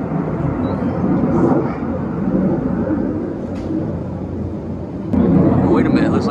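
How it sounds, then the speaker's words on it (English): Jet aircraft roar overhead in a steady, loud broadband rumble that swells toward the end, with talk mixed in. "I got some jet aircraft overhead."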